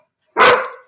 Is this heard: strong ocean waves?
no